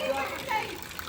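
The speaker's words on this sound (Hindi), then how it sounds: "अब तक पानी बह रहा है" Spring water flows continuously at the old shrine site of Baba Jitto ji at Karr Kot, making a steady, close rushing wash with nearby voices, including children, over it.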